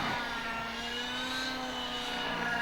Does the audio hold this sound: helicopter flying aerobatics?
yes